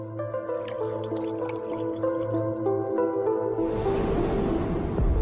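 Water being poured, a continuous liquid trickle and splash building up toward the end, heard alone over a steady tonal background.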